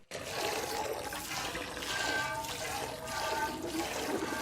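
Liquid sound effect of a cow being milked into a metal bowl, a steady splashing, trickling wash of water that runs continuously at moderate, close level with faint surges.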